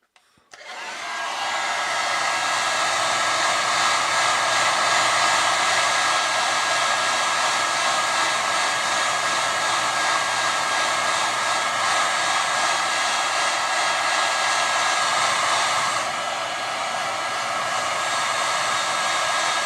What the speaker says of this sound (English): So let me try hair dryer.